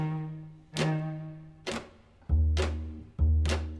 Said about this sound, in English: that's the sound of the strings playing with guitar picks while muting the strings